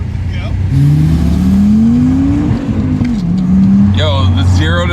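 A car accelerating hard from a standstill to about 30, its engine note rising loud and close in a long sweep, easing, then climbing again, with a voice speaking over the end.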